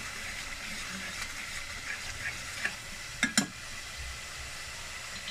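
Quiet, even sizzling of potato and eggplant frying in a pan, broken by a few light clinks and scrapes of stirring.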